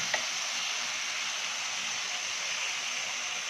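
Steady, close deep-frying sizzle of food in hot oil in a pan, a continuous bright hiss with no breaks or talking, even in level throughout.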